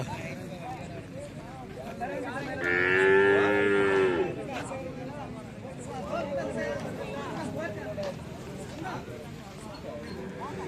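At the Valliyur cattle market, a cow lets out one long, loud moo close by, surrounded by steady crowd chatter and voices talking throughout.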